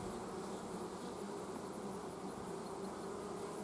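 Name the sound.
honey bees buzzing around an open hive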